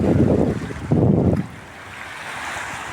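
Sea waves wash onto a beach in Kuwait, pushing debris ashore, a loud rushing surge that fades after about a second and a half into softer, distant wash and wind noise.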